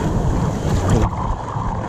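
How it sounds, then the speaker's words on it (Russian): Boat engines running on the sea near Sochi, a loud steady low rumble mixed with wind buffeting and rushing water, continuous with no voices. "Вот смотрите, как у нас двигатели работают."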